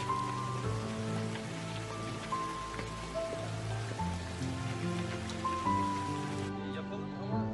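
Steady rain falls and patters on a surface throughout, a dense continuous hiss with sustained musical tones layered over it.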